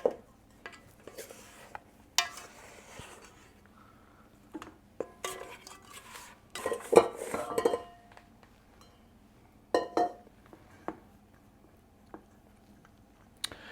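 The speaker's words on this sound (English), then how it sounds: "Now I like to transfer this to another bowl just to make it easier to scoop." Sugar cookie dough scraped from one bowl into another, heard as scattered clinks and scrapes of utensil against bowl with quiet gaps between, close and fairly soft.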